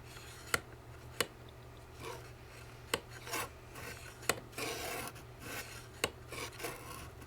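A Lucy Clay Mini Slicer cuts with a quiet, rough rubbing rasp, broken by sharp, close clicks at irregular intervals.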